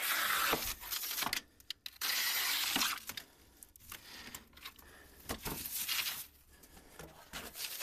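A new Simonton vinyl double-hung replacement window being unwrapped, with loud crinkling and tearing of plastic wrapping in close, irregular bursts and short pauses, no talk.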